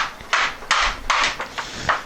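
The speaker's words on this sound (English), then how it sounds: "So you gotta pop those out with a hammer, which I'll do now" A hammer knocks out the transportation blocks from a pocket door laid on its side, giving about five sharp, evenly spaced knocks with small rubbing noises between them.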